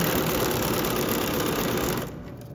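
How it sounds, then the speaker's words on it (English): A home sewing machine stitching a quilt block, a fast steady mechanical whir and rattle close up that runs continuously and then winds down near the end, with no talking. "you can manually do it with the dial on your sewing machine"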